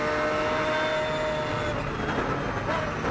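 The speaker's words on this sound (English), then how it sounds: "Great sound the Lamborghini makes." A Lamborghini GT race car at Silverstone during the FIA GT Championship Tourist Trophy roars steadily past for a few seconds, a loud, sustained engine drone with no talking.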